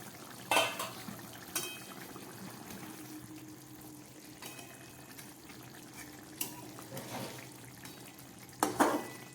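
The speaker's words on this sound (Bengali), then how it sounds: "এবার ঢাকাটা খুলে আপনাদের দেখাচ্ছি।" A lid lifted off a pan of simmering chana dal dhoka curry, with sharp clinks of metal lid and utensils against pots spaced over a low background bubbling, close and without talk.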